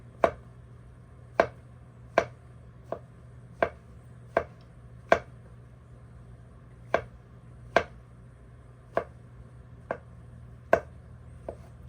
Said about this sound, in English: Since I don't serve mushrooms, I don't know how to do them. And they are slimy. And then what do? You cut them like this